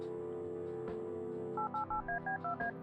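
Push-button telephone being dialed in the video game Kathy Rain: a run of six short, evenly spaced DTMF tones over a steady musical background, clear and close with no talking.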